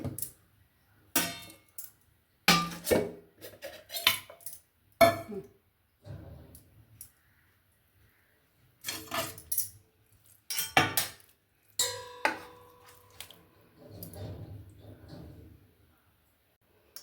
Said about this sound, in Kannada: ಇವಾಗ ಇದನ್ನು ಒಂದು ತಟ್ಟೆಗೆ ನಾನು ಹಾಕ್ಕೊಳ್ತೀನಿ